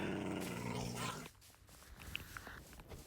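Video game dogs growl and snarl loudly for about a second, followed by fainter scattered game sounds and small yelps.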